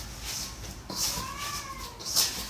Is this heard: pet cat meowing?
yes